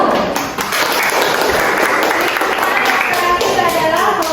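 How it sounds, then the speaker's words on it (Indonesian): Classroom clapping by students in an Indonesian Catholic religion lesson, a loud, dense burst of many hands clapping together that runs steadily throughout with a voice mixed into the noise. "Tepuk tangan dulu."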